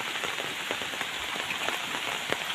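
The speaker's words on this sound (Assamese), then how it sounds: "ধাৰাসাৰ বৰষুণ দি আছে কৈছোঁ নহয় একদম কণ্টিনিউ দি আছে" Heavy, continuous downpour during monsoon flooding in Assam, a dense steady hiss of rain drumming on surfaces with scattered louder drops, close and unbroken, no voices.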